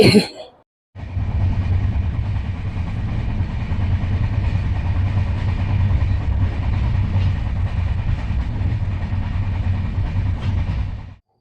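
After a brief burst of noise and a short silence, a train rumbles steadily with a loud, continuous low roar, close and unbroken.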